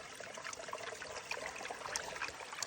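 Water washes and sloshes through loose material in a gold pan outdoors in Pennsylvania, a steady close trickling and dribbling with small splashes throughout and no talk.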